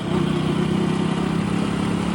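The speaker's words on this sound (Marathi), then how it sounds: "लय मजा येतं बाबा गावांच्या रस्त्यावर बाईक चालू" A motorcycle runs along a village road near Talgaon with a steady, loud, even engine drone throughout.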